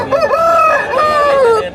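Rooster crowing at Savaravilli weekly livestock market in Vizianagaram district, one loud close cock-a-doodle-doo lasting under two seconds, with a faint voice in the background.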